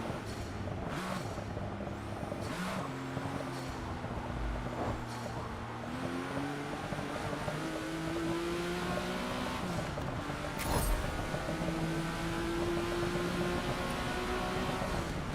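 Engine of a car in Forza Motorsport, not a V12, rising and falling in pitch through repeated revs and gear changes, a steady mid-level drone with a brief burst near the end, no voices.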